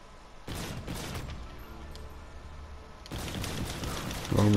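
Video game gunfire during a zombies round, with rapid clustered shots at the start, a quieter stretch, then a renewed loud burst of firing near the end.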